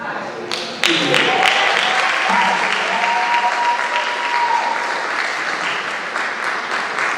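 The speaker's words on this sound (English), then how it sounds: "If you don't know the person, still clap" Audience at a National Honor Society induction bursting into loud, continuous clapping after a brief start, with a few voices and cheers mixed in.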